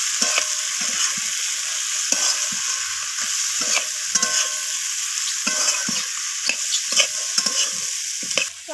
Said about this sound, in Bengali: মশলাগুলোকে আমি এভাবে সবজির সাথে কষিয়ে নিচ্ছি নাড়াচাড়া করে।